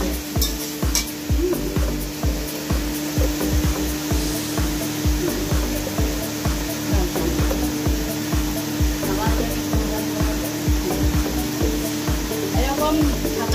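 Food stirred in a pan after the lid comes off, a steady loud sizzle with rhythmic scraping strokes running throughout, close and continuous.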